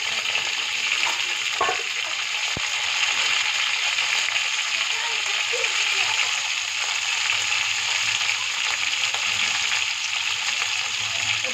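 Tomatoes and onions sauté for crab curry in a pan, giving a loud, unbroken sizzling hiss throughout with only a few faint stirring knocks near the start.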